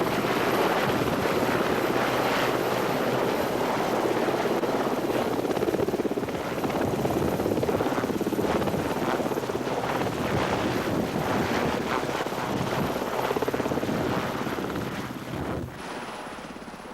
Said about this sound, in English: A helicopter was called in by another team of rescuers